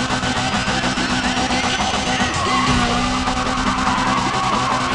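A car drifting in the racing video game Need for Speed ProStreet, with a loud, sustained tire squeal over a roaring engine that holds steady throughout.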